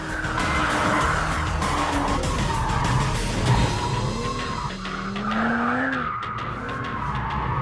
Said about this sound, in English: In M mode, it's even more of a tyre-smoking mentalist